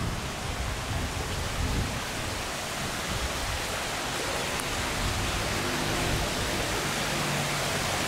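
Steady, dense rushing water from a waterfall at the front entrance of the Danna Hotel in Langkawi, Malaysia, a constant loud roar that fills the whole stretch without voices.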